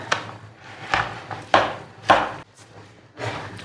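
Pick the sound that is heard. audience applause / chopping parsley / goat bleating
chopping parsley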